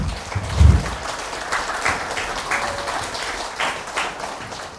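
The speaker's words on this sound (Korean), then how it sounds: "여러분 큰 박수 부탁드립니다." Audience at a health lecture on knee joints claps to welcome the orthopedic doctor to the stage, a moderate, steady patter of applause with a low thump near the start.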